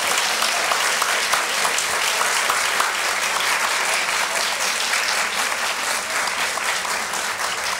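Sustained applause from an audience at a harp concert during a harp festival, a dense, steady clatter of many hands clapping throughout with no break.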